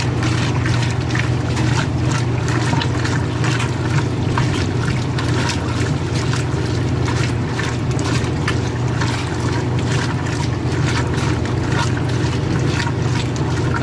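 A 2017 Speed Queen washing machine agitates a load of jeans in water, with a steady low churning hum and continuous sloshing, dragging water noise running without a break.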